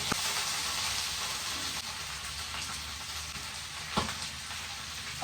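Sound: dried chillies, curry leaves and onions frying in a pan

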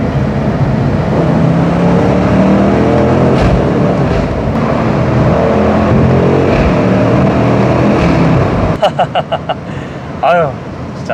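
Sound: BMW M850i Gran Coupe engine accelerating

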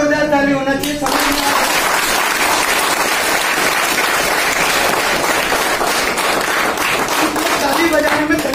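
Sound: audience applause

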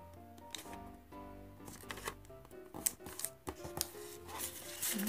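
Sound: folding paper for an origami shoe

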